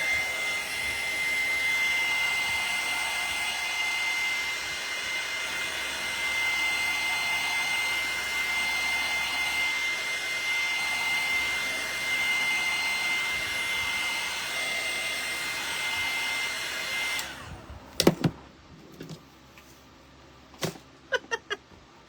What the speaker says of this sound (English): I'm going to go ahead and heat it with the dryer to melt a little bit